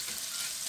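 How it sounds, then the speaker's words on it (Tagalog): Shrimp sauté in a pan for Italian pesto pasta, making a brief, steady, soft sizzle with no talking. "2 minutes lang po natin igigisa yung hipon"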